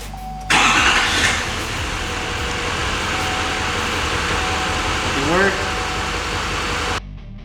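An LML Duramax diesel truck engine cranks and catches, then settles into a steady, loud rumbling idle close by.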